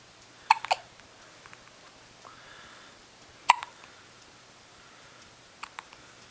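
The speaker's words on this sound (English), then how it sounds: "Go away, Hiccups." A baby hiccups several times, sharp little catches spaced a few seconds apart with quiet pauses between, close and fairly soft against a faint room hum.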